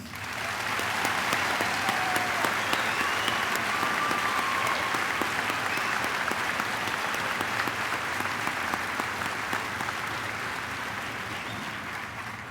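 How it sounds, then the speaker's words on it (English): A large audience applauds continuously, honoring graduating high school students at a commencement ceremony; dense, steady clapping fills the hall, fairly distant and even throughout. "join me in honoring these students with a round of applause"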